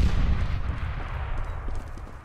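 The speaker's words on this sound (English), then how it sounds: "That was a good grenade" Grenade explosion in the game CS:GO, a deep booming blast already rolling at the start and fading into a low rumbling tail over a couple of seconds.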